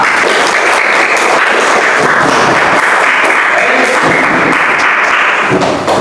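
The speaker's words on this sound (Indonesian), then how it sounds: "Tepuk tangan untuk kita semua." Loud, dense applause from a fourth-grade mathematics class, children clapping together in a continuous close wash of sound for several seconds without talk.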